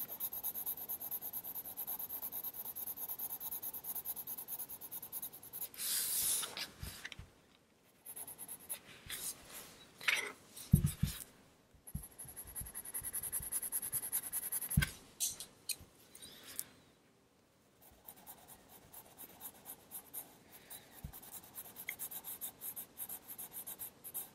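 Pencil shading on paper with a very light touch: soft, continuous scratchy rubbing strokes, close and quiet, in uneven bursts separated by brief pauses, with no talk.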